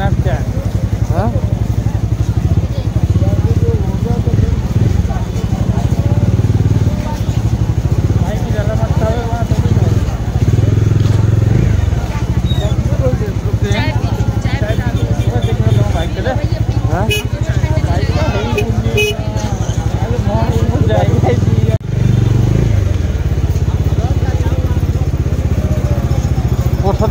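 A motorcycle rides on the road from Patuli to Prayagraj with a steady, loud engine drone and wind rumble throughout. Voices talk over the ride.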